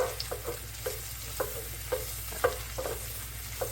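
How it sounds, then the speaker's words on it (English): Mushrooms being stirred in a pan, cooked for a warm bacon vinaigrette: a faint steady sizzle under repeated soft scraping strokes of a spoon at a regular rhythm, with no talking. "now, I'm just going to stir these."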